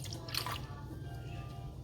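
Kunu zaki, a homemade grain drink, drips and trickles through a strainer with a soft, steady liquid patter close by over a low background hum.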